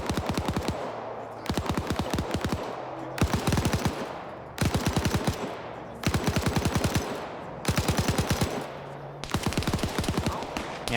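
Bursts of automatic machine gun fire from a military video game, rapid rattling volleys repeating in roughly one-second clusters with brief gaps between them, loud and close, with no talking.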